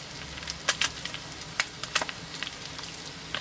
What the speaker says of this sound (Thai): ต้องทอดไฟอ่อนๆนิดนึง เราไม่ต้องใช้น้ำมันเยอะนะคะ